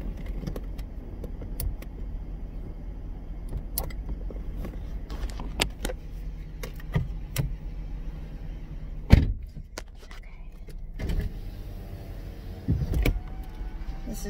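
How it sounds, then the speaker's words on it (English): Power convertible top on a 2012 Ford Mustang lowering, with a low motor hum and a series of clicks, clunks and latch thumps, one sharp knock in the middle, and no speech. "make sure that you can see that the convertible top here does work. I'm gonna put this down just a second."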